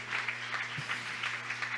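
A church congregation claps together in praise to God, a faint, steady patter of applause beneath a low background hum.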